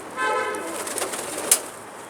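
Pigeons newly arrived from Ireland coo softly at close range, a few low, rolling calls followed by a brief sharp click or flutter near the end.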